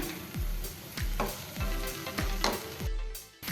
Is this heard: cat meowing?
no